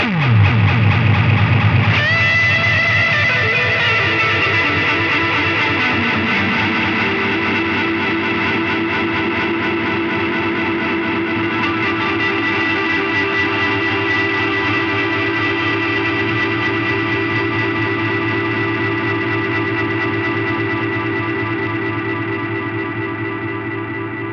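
Guitar through a NUX Atlantic delay pedal with repeats and time turned fully up, a struck chord smearing into a loud, dense wash of cascading echoes that sustains and slowly fades over the full length.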